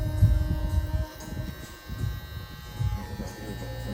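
Electric hair clipper cutting hair during a haircut, a close steady motor buzz with a faint high whine, swelling and dipping as the blades move through the hair.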